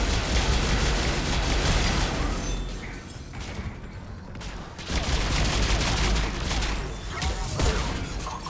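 Anti-synth rifle fire in Mass Effect 3 Legendary Edition, loud sustained bursts of shots and impacts, easing briefly midway before another heavy volley, with game combat noise around it.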